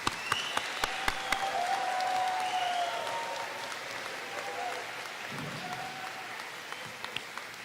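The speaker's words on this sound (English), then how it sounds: "Let's give all our award winners a round of applause" Audience applause for award winners at an adult education graduation ceremony: sustained, even clapping from a large crowd filling a hall, steady throughout with a few sharp individual claps standing out.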